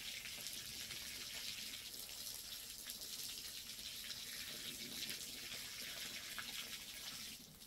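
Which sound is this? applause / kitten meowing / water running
water running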